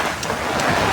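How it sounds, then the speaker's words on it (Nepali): Heavy monsoon rain pours down in Gorkha, Nepal, a loud, unbroken roar of drops close by with no voices. "कति धेरै पानी परिरहेछ।"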